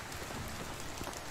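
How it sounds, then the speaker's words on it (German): Steady rain pours in the medieval survival game Medieval Dynasty, a dense, even hiss of drops on surfaces with no talk. "Könnt ihr jetzt vielleicht der Regen mal aufhören?"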